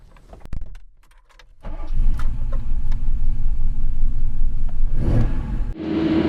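A BMW M1 with its M88 inline six-cylinder engine, heard as a few clicks and jangles and then a loud, steady engine rumble that settles into a sustained drone while driving, close up.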